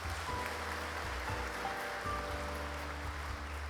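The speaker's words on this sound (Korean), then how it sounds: "박수로 격려해 주십시오" Applause from a congregation at an Easter union worship service in Busan, a steady dense wash of clapping throughout, sustained and fairly loud with no pauses.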